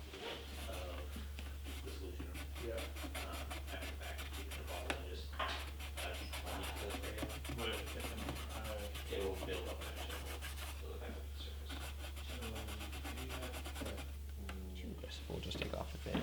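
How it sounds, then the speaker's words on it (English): A credit card scraper drawn over the dirty finish of an antique parlour guitar, producing close, repeated dry rubbing and scraping strokes over a steady low hum, with a voice speaking at moments. "Now grab a credit card scraper. A fair amount of dirt on that."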